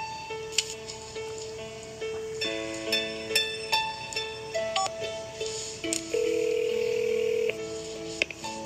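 A telephone gives a quick run of dialing key beeps, then a steady ringing tone rises and holds before a last beep; close, clear and with no talking.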